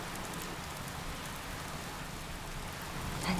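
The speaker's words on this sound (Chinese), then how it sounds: "下雨了" Rain falls in a steady, faint hiss that fills the whole stretch without a break, with no talking.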